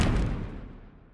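Thunder in a Minecraft-style block video game, a single loud broadband rumbling crack that decays steadily over about a second with no talk.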